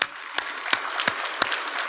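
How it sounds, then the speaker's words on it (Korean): A church congregation applauds during a Sunday worship service after a choir and orchestra performance, producing steady, fairly close clapping with a few sharper claps standing out. "주님께 영광의 박수."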